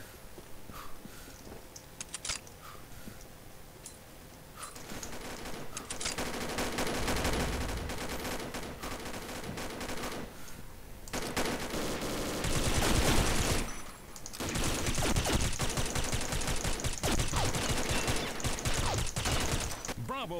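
A FAMAS G2 rifle fires in the shooter game Combat Arms, with bursts of rapid gunfire and dense volleys that come and go amid game noise, and a voice talks at times.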